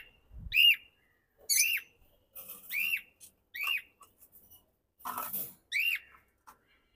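Pet parrots in a cage give a series of loud, shrill squawks and whistled calls, about six sharp bursts spaced roughly a second apart, close by and with no talking over them.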